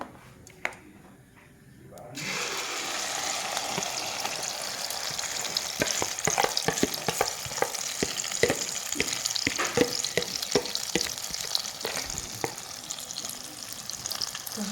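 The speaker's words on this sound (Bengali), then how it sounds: "এখন আমি সরষের তেলটা গরম হয়ে গেছে দিয়ে দিব ব্যাটারটা" Batter hits hot mustard oil in a nonstick pan and bursts into a loud, crackling sizzle after a quiet start, with spoon scrapes and spattering pops carrying on steadily.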